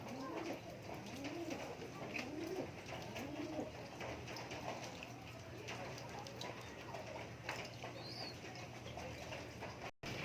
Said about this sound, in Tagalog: sa loob ng bahay niya is may mga kalapati siya ditong breeder